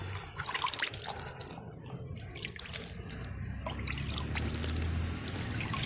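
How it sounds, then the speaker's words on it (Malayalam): Rice water poured over freshly planted ginger, a close splashing, trickling pour that starts and stops, then runs steadily again with dribbling and drips, no voices. "ഞാനിത് കഞ്ഞിവെള്ളം എടുത്ത് വെച്ചതാണ് തളിച്ചു കൊടുത്താൽ മതി"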